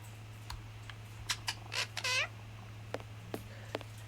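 An injured cat in a video game gives a few faint meows, with a longer drawn-out cry near the middle, over a quiet hum and scattered soft clicks.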